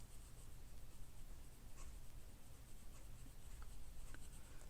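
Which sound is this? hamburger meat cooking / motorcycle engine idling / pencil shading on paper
pencil shading on paper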